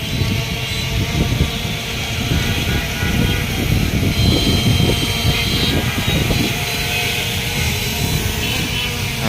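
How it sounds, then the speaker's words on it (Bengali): A small F22 4K camera drone, a budget DJI Mini 2 clone, flies nearby with a steady whirring propeller buzz held at an even level throughout, no voices present. "ড্রোনটাকে নামাই দেখলেন আমি কিন্তু এতক্ষণ ড্রোনটা উড়াইছিলাম"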